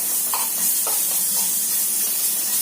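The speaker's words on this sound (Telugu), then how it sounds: "ఇలా గోల్డెన్ కలర్ లోకి వచ్చేదాకా ఫ్రై చేసుకోవాలి" Prawns frying in hot oil until golden make a continuous bright hiss and sizzle, with a few soft taps from stirring.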